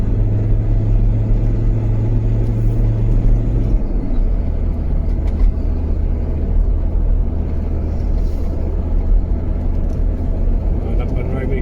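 A car engine labours up a steep hill in third gear on an off-road route near Aviemore, a steady low rumbling drone filling the clip with a brief deeper tone at the start.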